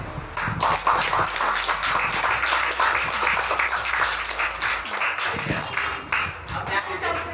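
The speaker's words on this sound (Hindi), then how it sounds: "तालियों के गड़गड़ाहट से स्टार्ट करें।" A crowd at a live student debate on online versus offline study bursts into loud, dense applause to open the event, with sharp individual claps throughout and some voices mixed in beneath the clapping.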